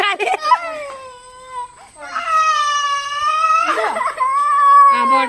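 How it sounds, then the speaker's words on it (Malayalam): A cat named in Malayalam as crying gives drawn-out, wavering meows close by, with a person talking over and between the cries. "ഇതാണ്ട് മൂസ് കരയുന്നു കാര്യം."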